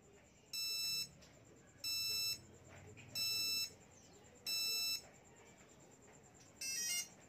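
A motorcycle fingerprint scanner gives five short, high electronic beeps at roughly regular intervals, faint over a quiet background.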